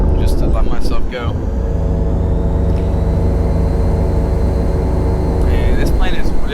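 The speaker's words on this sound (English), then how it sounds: "This plane is really, really loud." An F/A-18 Hornet jet engine in Microsoft Flight Simulator 2020 gives a loud, steady roar with a droning hum. It runs through the whole stretch while someone talks over it at the start and again near the end.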